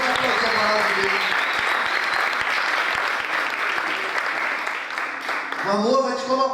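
A church congregation on a spiritual retreat breaks into loud, continuous applause at an evening service, a thick, even roar of clapping with faint cheering, tapering slightly before voices rise at the end.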